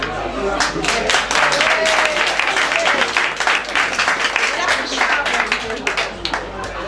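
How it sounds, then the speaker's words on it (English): Loud, sustained applause from a crowd, dense clapping that carries on steadily throughout. "An applause for Wen."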